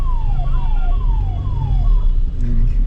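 A police siren wails in quick repeated falling sweeps over the low rumble of nearby city traffic and engines in India.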